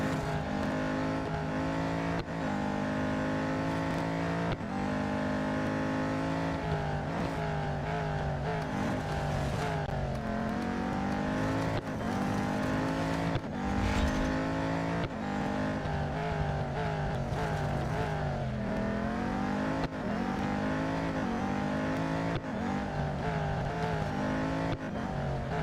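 Race car engines roar continuously in Real Racing 3, with rising and falling revs as gears shift and cars jostle close together, loud and steady throughout with no talking.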